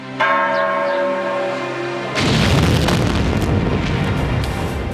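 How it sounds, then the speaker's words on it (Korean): A massive explosion hits a Pemex chemical plant where leaking butane has spread. A steady ringing tone is first cut by a sudden loud boom, then a sustained rumbling roar. "순간 엄청난 폭발음이 페맥스 공장을 뒤흔들더니"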